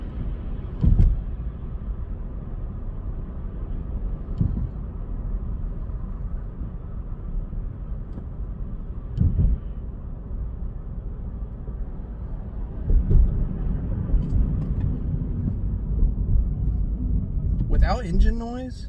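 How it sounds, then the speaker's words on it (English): A low engine rumble holds steady inside an idling, modified 2019 Mitsubishi Mirage, broken by a few soft thumps and a brief rising sound near the end. "The engine's idling right now."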